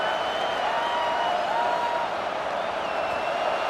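Home crowd at an American college football game against Michigan State roaring on third down, a dense steady wash of cheering and noise filling the whole stretch without letup.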